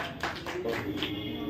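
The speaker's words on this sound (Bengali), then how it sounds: "চেয়ারম্যানকে করতালির মাধ্যমে এই সুন্দর মুহূর্তটাকে আমরা মনে রাখার চেষ্টা করব।" An audience at a national theatre festival claps during a felicitation, brief scattered clapping heard close, mixed with murmuring voices.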